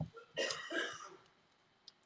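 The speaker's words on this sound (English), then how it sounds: "If you're hearing him coughing in the background" A man coughing in the background, a few rough throaty coughs and a throat clear close together at low volume, followed by quiet room tone.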